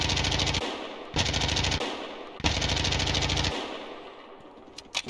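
Sustained bursts of automatic machine gun fire in a tactical military video game, three long loud volleys with brief gaps, then a sparser tail with a few scattered shots near the end.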